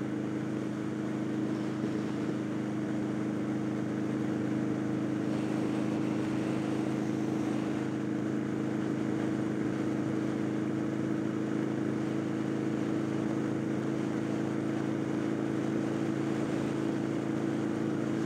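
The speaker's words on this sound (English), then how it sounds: "Hopefully you can hear through all this wind and noise." Steady wind buffeting and road roar on a highway ride toward Phoenix, a constant loud low rumble with a droning engine tone and no break.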